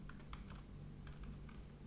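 Keys clatter on a computer keyboard as a workflow name is typed into process design software, a faint scatter of quick, irregular taps over a steady low hum.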